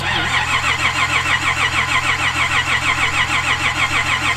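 Ford AU Falcon drift car engine cranking over and over in a steady rhythmic churn, loud and close, without catching.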